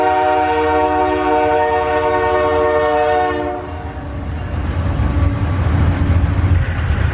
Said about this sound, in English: There's a freight train going by on one side